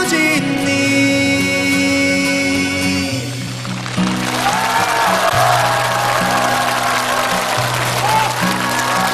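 A studio audience applauds after a pop song on a TV game show stage; the sung tune fades out and steady, loud clapping fills the room for several seconds while backing music continues underneath.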